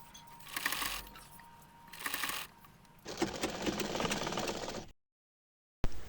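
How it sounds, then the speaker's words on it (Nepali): A sewing machine stitches the upper side seam of a kurta in short whirring runs, then a longer steady burst, stopping abruptly before a final brief start. "अब चाहिँ कुर्ताको साइडको माथिको भाग सिलाउँदिरहेको छौँ।"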